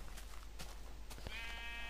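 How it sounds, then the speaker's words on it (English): A sheep in the Minecraft video game bleats once, a drawn-out, clear, moderately loud call set over steady game ambience, with a few faint footstep-like taps heard just before it. "Hello, Mr. Sheep. Thank you for your wool."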